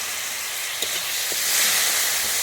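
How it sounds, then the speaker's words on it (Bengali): Water hitting frying masala in a pan for a Bengali rohu fish kalia gives a steady, loud hiss that swells into a broad sizzle, with a couple of brief splashy spikes and no talking. "আমি এর মধ্যে একটু জল দিয়ে দিচ্ছি যাতে আমার মশলাটা না পুড়ে যায়"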